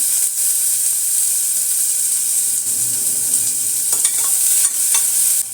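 Chopped onions go into hot oil with cumin, whole coriander seeds and whole dried red chilies, giving a loud, steady sizzle and hiss with light stirring scrapes throughout.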